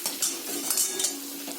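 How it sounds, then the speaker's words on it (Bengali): A spatula scrapes and clinks against a pan while a spice paste with turmeric is stir-fried, for a bottle gourd and prawn dish; a brief run of metallic scrapes and knocks, close and fairly steady, with no talk. "হলুদটা দিয়ে একটু কষে নিয়ে দেখুন মশলা কষানো পুরো কমপ্লিট।"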